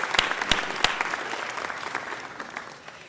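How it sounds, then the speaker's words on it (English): Audience applauding at a city council meeting in City Hall, a crowd clapping loudly with sharp claps at first, then a steady patter that gradually fades out. "Give him a round of applause."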